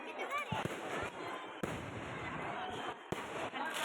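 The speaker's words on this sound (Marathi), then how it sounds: "बाहेरूनच दिसतंय की मंदिरामध्ये किती फटाक्यांची आदिशबाजी चालू आहे" Firecrackers and fireworks burst at a village temple fair, with three sharp cracks standing out over a continuous roar of crowd noise and distant crackling.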